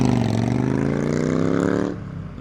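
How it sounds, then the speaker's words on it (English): An old school Harley-Davidson motorcycle engine rumbling with a deep, loaded tone that shifts pitch as it passes, then fades away near the end; no talking. "That is a cool old school Harley."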